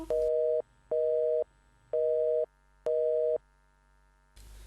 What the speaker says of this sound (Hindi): लगता है फोन कट गया।